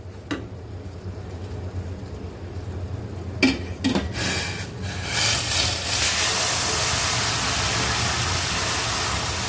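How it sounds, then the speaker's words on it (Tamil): A couple of sharp metal clanks, then a loud, steady sizzling hiss as boiling water is poured onto roasted semolina in a hot pan for kesari, continuing to the end. "இப்போ நம்ம கொதிக்க வச்ச தண்ணியை எடுத்து இதில் நம்ம இப்போ ஊற்ற போகிறோம்"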